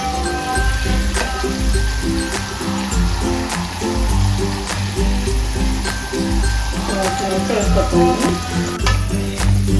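Pieces of fish fry in hot oil in a home kitchen, a loud continuous sizzle with bursts of crackle and scraping clinks as the pieces are turned, close and without talk.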